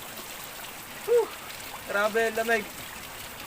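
A river in Barangay Cumba flows with a steady rushing hiss under a man's brief speech.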